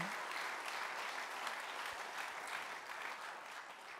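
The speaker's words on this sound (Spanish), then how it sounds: "vamos a darle un fuerte aplauso al Señor" A church congregation claps steadily in a strong, even round of applause, fairly distant and continuous, with no talk over it.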